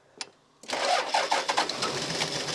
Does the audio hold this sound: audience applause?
no